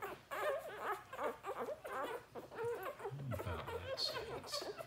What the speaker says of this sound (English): the pups are really getting stuck into their afternoon meal now